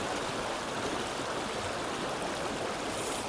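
A river runs over boulders between meadows and trees, a steady full rushing wash of water, close and continuous with no voices.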